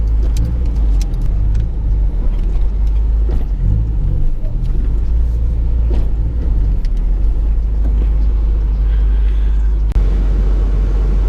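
A 1998 Honda Integra GSR engine roars loudly and steadily as the car drives and accelerates in second gear, with a heavy low rumble throughout.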